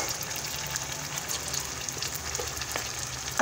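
Chopped onion sizzles and fries steadily in a pan for a village-style tomato rassa curry, a continuous close crackle with no talking.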